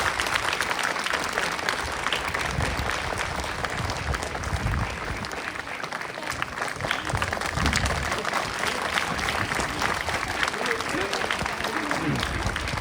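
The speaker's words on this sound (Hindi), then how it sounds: "जोरदार ताली बजना चाहिए।" An audience at a tribal pride day ceremony claps loudly and steadily, a dense wash of applause filling the whole stretch with no break.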